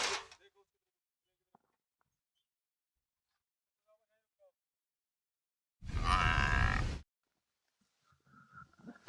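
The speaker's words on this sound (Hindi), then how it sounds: "हाँ भैंस लाया भाई।" A buffalo lets out one loud, drawn-out bellow lasting about a second, close by in a quiet rural setting, with faint scattered noises and a person speaking briefly before and after.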